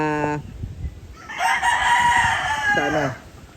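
Gamecock roosters bred on a farm crow close by, one long crow with a clear harmonic pattern, then a second overlapping crow rising from about 1.4 seconds, with brief clucking between them.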